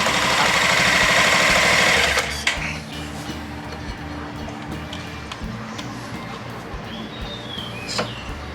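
A car engine runs close by just after its drive belt was tightened, opening with a loud rough burst for about two seconds, then settling into a steady, lower idle hum with no talk.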